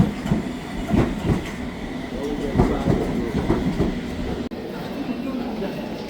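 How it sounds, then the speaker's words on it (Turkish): A London Underground train pulls into the station, its wheels clattering in a rhythmic series of clacks on the rails before the sound settles into a steady hum. "Metromuz da geldi."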